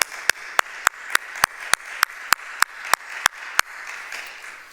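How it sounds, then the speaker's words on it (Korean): Congregation in a church applauding together, a steady wash of many hands with about a dozen sharp louder claps punching through at a regular beat, no talk over it. "우리도 한번 크게 한번 박수 칠까요?"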